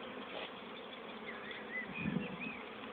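Steady buzzing of many honeybees swarming close by around a hive, a dense insect drone that swells slightly toward the end.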